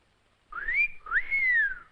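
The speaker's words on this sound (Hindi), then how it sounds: "पुलिस वाली को देखकर सीटी बजाते हो?" A person whistles at a policewoman in two rising-and-falling wolf-whistle phrases, the second longer than the first, close and clear with no talk.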